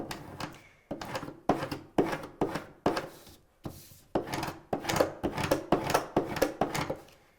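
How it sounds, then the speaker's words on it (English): A plastic scraper tool is rubbed in repeated firm back-and-forth strokes to burnish a vinyl design onto transfer tape, producing close, rhythmic scratchy swipes with brief pauses between bursts. "I'm using my scraper tool here, and it's going to help me burnish or make sure that my design sticks to the transfer tape"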